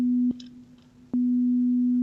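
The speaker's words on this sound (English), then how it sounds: "we're back to sine wave." A steady pure tone hums continuously, briefly interrupted by two soft clicks as it shifts slightly in character before settling back into the plain sine.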